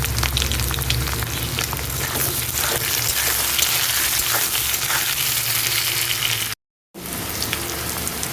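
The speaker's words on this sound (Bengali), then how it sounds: "আলুগুলো একটু লাল লাল করে ভেজে নেব।" Salted potato pieces fry in hot oil in a pan, a continuous close sizzle that cuts out briefly near the end before resuming.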